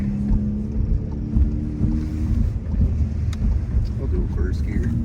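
Volkswagen MK7 GTI with a Borla S-Type cat-back exhaust under a first-gear pull, heard as a loud, steady low engine drone mixed with wind buffeting and a fading tonal hum.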